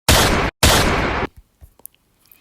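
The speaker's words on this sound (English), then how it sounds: "and suddenly I heard loud gunshots." Two loud, close gunshots or sharp bursts, each about half a second long and separated by a short gap, followed by faint scattered clicks and rustles.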